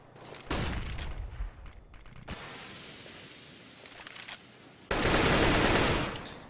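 AK rifle fire in the Counter-Strike video game: two loud, sharp automatic bursts, the first about two seconds long and the second just over one second, separated by quieter background noise.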